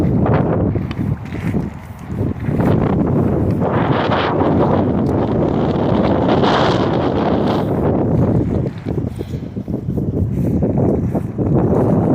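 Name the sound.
wind noise on the microphone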